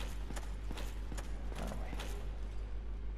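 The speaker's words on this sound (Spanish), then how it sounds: "Pero ahí hay un caballo errante." Horse hooves clip-clopping in the Dark Souls video game, a steady rhythmic series of sharp hoof strikes at close range over a constant low background hum, with no talking.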